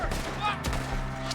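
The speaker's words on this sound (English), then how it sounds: "Shoot the ones up there first!" Gunfire erupts in Red Dead Redemption 2 as a gang is shot at up in the trees, with loud, rapid overlapping shots filling the busy, continuous battle soundscape.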